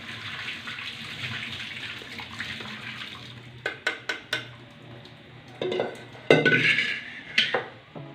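Curdled milk poured through a strainer to separate paneer from whey, heard as steady running liquid with several sharp clinks and splashes of utensils near the end, close and fairly loud.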